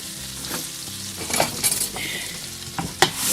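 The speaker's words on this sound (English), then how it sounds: "Give it a little stir." Butter and vegetables sautéing in a pan for Thanksgiving sage dressing, a steady close sizzle broken by spoon scrapes and clinks as the mixture is stirred, with no voices.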